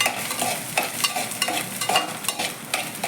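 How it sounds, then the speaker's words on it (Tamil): Ten cloves of garlic and about twenty small shallots fry in oil with roasted fenugreek, a steady sizzle punctuated by regular scraping strokes of a stirring spoon. "இப்போ 10 பல்லு பூண்டு, ஒரு 20 சின்ன வெங்காயம், இது நல்லா பொன்னிறமாக வதக்கணும்."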